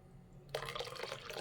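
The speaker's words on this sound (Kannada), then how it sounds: "ಜಾರ್ ತೊಳೆದಿದ್ದು ನೀರನ್ನ ಹಾಕ್ಕೊಳ್ತೀನಿ" Rinse water from a grinder jar poured into dosa batter, a short splashing pour that starts abruptly after a quiet moment and runs close and soft to the end.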